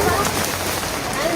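Steady rain falls outdoors in a village where children are playing, a dense, even hiss of drops close by, with a voice speaking over it.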